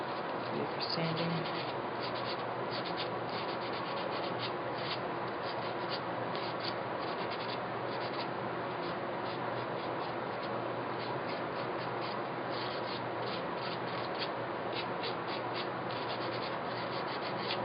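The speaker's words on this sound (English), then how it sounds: "so let's see if we're sanding" Sandpaper rubs over a thick section of a carved wooden hollow form sculpture in a steady, close scratching hiss with rapid back-and-forth strokes and no pause.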